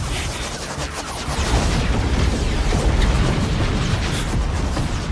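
Cannon fire from hundreds of spirit-guided cannons in an animated fantasy battle rumbles as a dense, continuous wall of booms and blasts, loud and sustained without any distinct gaps.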